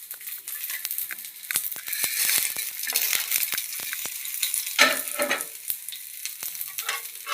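Horse gram and urad dal dry-roasting in a pan, with dense dry rattling and scraping as a spoon stirs the grains steadily and close by, sharp clicks scattered throughout, no voices.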